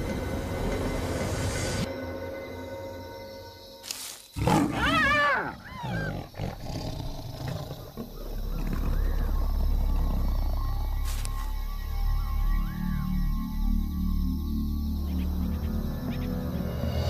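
A lion roars in the wild, a loud series of deep throaty calls in the middle of a long stretch of steady low rumbling ambience and other noise.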